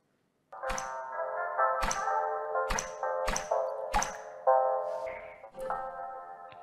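A video game sound effect for touching a sticker: a run of bright, tonal plucks and whip-like snaps, five sharp attacks in quick succession over a ringing chime bed, ending in a softer wobbling tone, clear and alone.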